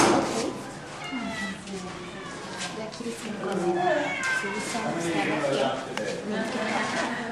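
A cat meows repeatedly while being handed over at the Henderson Animal Care and Control shelter, its cries close and mid-loud. Adults talk over and between the meows.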